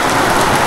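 Very heavy monsoon rain pours down in the Konkan countryside, a dense, loud, unbroken hiss of downpour on surfaces with no voices.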